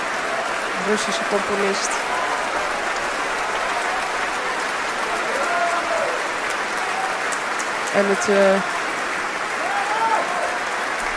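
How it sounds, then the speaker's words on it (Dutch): Concert audience applauding the Royal Concertgebouw Orchestra and violin soloist Lisa Batiashvili after the Beethoven Violin Concerto: a steady, dense wash of clapping throughout, with a voice speaking over it. "het publiek ook, geeft ook een groot applaus aan de muzici van het Concertgebouworkest"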